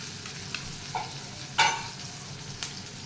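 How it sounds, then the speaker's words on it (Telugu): Frying on medium flame in a pan while making dosakaya (cucumber) roti pachadi, a steady low sizzle with a few stirring scrapes and one louder spattering burst midway, no voices. "ఈ మీడియం ఫ్లేమ్ మీద ఇలా ఒక 2 మినిట్స్ ఇలా ఫ్రై చేయండి."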